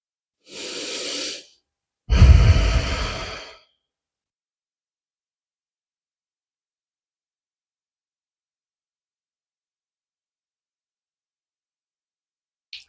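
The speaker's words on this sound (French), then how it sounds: "Allez, et on respire." Two slow, close breaths during a guided meditation: a soft inhale followed by a fuller, louder exhale, then long silence.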